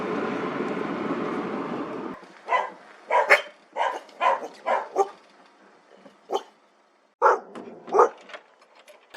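A working dog barks in a rapid series of loud, close barks in irregular bursts, following a stretch of broad rumbling noise.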